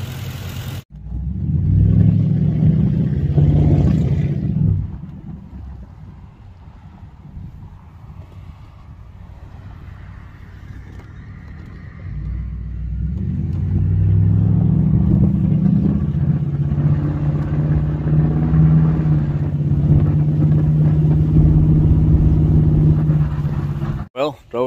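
A 2011 Lincoln Town Car on a road test after transmission service: a steady low engine drone with road and wind noise from inside the cabin, swelling as it accelerates, with a voice talking over it.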